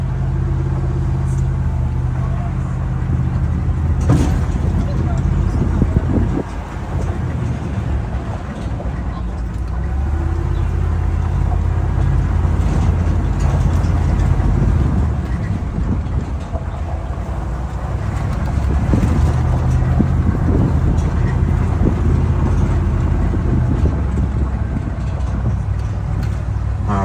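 A truck drives toward a zipline base camp at Kualoa Ranch, its steady engine rumble and road noise continuous and fairly loud throughout, with faint voices now and then underneath.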